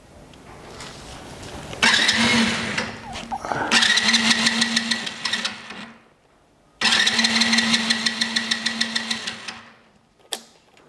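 A small engine with no flywheel starts up and runs unevenly in two bursts of a few seconds each, separated by a pause. Its buzzy, rattling note rises and falls, loud and close, and no one speaks over it.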